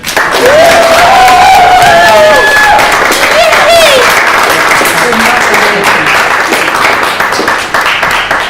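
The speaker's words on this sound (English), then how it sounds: "So Thomas does deserve a big, big round of applause." Loud, dense applause from an audience at a course certificate presentation ceremony, steady clapping and crowd noise throughout, with a few voices and cheers rising over it.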